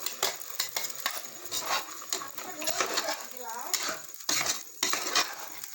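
Chicken curry with ground masala stirred in a pan, a spoon scraping and clinking against the metal in repeated strokes over a light sizzle, with a voice speaking at times.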